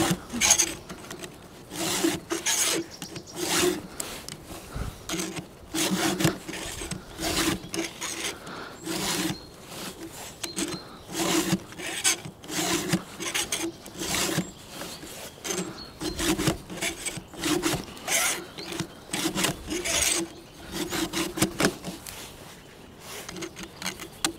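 Steady hand filing of a chainsaw chain during chainsaw maintenance, a close, rhythmic rasp of quick strokes repeating continuously with no talking.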